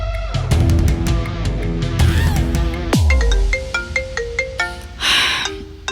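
A phone ringtone plays for a repeated incoming call, loud and melodic, with a run of sharp electronic tones, a sweeping slide near the middle, then a series of sustained beeps, and no one speaks over it.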